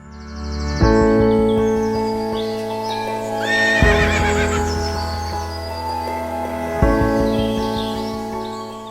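Draft horses in a barn whinny loudly three times, each call a sharp bright neigh that trails off, with quieter snorts and faint background chirps between.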